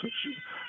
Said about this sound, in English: A cat meows on the hour.